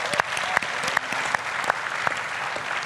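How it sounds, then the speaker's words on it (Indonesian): A studio audience claps steadily through a televised pre-debate talk show program, dense applause with sharp repeated accents, fairly close and sustained over the whole stretch. "Boleh tepuk tangan lagi?"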